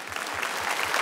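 Audience applause from a comedy crowd in a hall, a steady dense patter of many hands clapping throughout, close and sustained with no talk.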